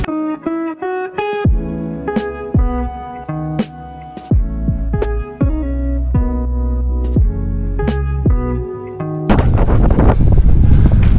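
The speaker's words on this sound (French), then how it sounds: "il y a trop de vent" Strong outdoor wind slams into the microphone in a loud, roaring rumble during the last couple of seconds. Before that comes a run of sharp, ringing tonal hits in an uneven rhythm.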